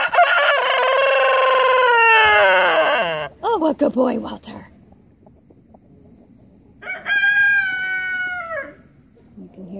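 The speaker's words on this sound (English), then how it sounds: "Each rooster has a distinct crow." A rooster crows loudly and close by for about three seconds with a long, wavering, yodel-like call, and a second crow follows later. A person speaks softly between the crows.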